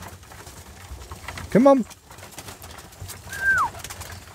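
Pigeons in a loft give two short, fairly loud coos, one near the middle and another about two seconds later, over low background hum. Someone speaks briefly as well.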